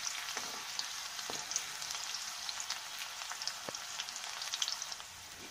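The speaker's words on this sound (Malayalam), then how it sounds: "ഇനി ഇഞ്ചിയും വെളുത്തുള്ളിയും കൂടെ നന്നായിട്ട് വഴറ്റിയെടുക്കണം." Ginger and garlic sautéing in oil for Kerala-style lemon pickle, a soft continuous sizzle with light crackles and occasional stirring clicks, fairly quiet and without speech.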